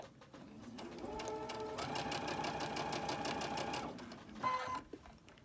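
A sewing machine stitches quilt blocks in a steady, rapid mechanical rhythm, runs for several seconds, then stops, followed by a brief clunk and a short whir.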